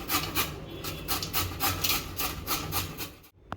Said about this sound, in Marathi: आता आपण हे जाड किसणीने किसून घेऊया.